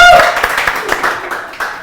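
In a studio chat with Nawazuddin, a small group claps for a banana walnut cake, giving a short burst of close, loose, uneven handclaps that tails off within two seconds.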